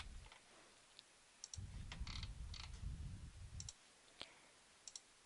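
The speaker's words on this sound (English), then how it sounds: "let me go ahead and just type it in" Keys clack on a computer keyboard in a few quick bursts, with a dull thumping stretch in the middle and isolated clicks afterward, close and fairly quiet.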